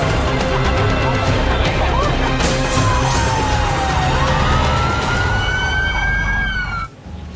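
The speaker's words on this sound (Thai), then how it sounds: "รถพยาบาลวิ่งอยู่เลนขวา เปิดสัญญาณไซเรนเพื่อขอทาง" An ambulance siren wails steadily in the right lane on a Thai road, its tone rising and falling loudly over heavy traffic and truck rumble before cutting off near the end.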